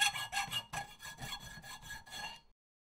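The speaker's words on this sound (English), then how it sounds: "give everything a nice filing" Hand file rasping the edge of a homemade PC faceplate, a quick series of close, scratchy back-and-forth strokes in a steady rhythm that stop abruptly, with no talk.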